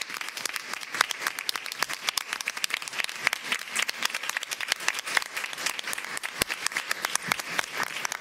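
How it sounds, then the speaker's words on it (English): A sustained round of applause fills a school board meeting, many hands clapping in a dense, steady patter with sharper individual claps popping out, lasting throughout without speech. "Let's give him a round of applause before he comes up for a picture."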